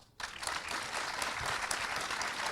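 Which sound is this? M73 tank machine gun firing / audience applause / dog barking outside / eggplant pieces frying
audience applause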